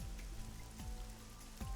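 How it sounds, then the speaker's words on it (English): Rain in the video game AI: The Somnium Files, steady soft patter with scattered drops striking a parasol, moderately quiet and continuous without any voices. "Parasol is getting pelted by the rain."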